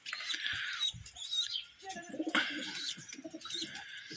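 Pigeons in a breeding loft with young birds, giving low cooing calls and soft bird vocalizations in short bursts, nearby and fairly clear amid light rustling.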